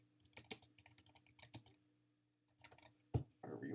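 A report title typed on a keyboard, quick bursts of light close key clicks separated by a short pause, then a louder thump and a rustling noise at the end.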